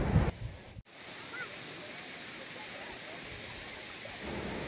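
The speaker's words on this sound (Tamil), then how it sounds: "தண்ணியோட அந்த ஃப்ளோ பாருங்கள் எவ்வளோ அழகாக இருக்குதுன்னு சொல்லிட்டீங்க." Steady broadband rush of flowing water at Balamuri waterfall near Mysore, continuous and fairly full from start to finish after a brief dropout near the beginning, with no voices.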